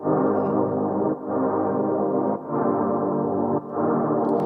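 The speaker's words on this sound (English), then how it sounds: "crank this high pass filter all the way up" Music plays steadily through a high-pass filter turned all the way up, its tone altered, with brief dips in level about once a second.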